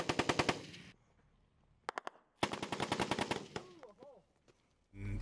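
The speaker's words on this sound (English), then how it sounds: "they ended up starting to receive high volumes of machine gun fire" Machine gun fire during combat in Afghanistan: several rapid bursts of loud automatic shots, then scattered single cracks and a renewed long burst, with faint voices in the pauses.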